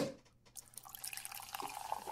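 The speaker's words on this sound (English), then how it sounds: "I'm gonna pour myself a little bit." A drink being poured into a glass, a steady liquid trickle and splash lasting about two seconds, close and fairly quiet with no talking over it.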